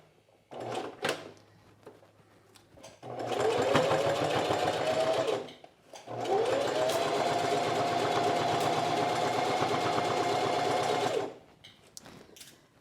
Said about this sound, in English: I'm going to do the top stitching of the binding in exactly the same way we did it here